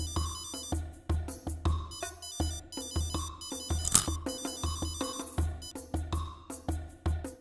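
A mobile phone ringtone plays a repeating melodic electronic tune in regular bursts, loud and close, running continuously with no voices over it.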